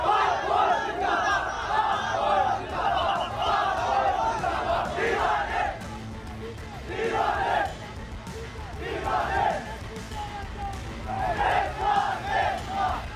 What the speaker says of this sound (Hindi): नीचे खड़ी हजारों कट्टरपंथियों की भीड़ पाक फौज जिंदाबाद के नारे लगा रही है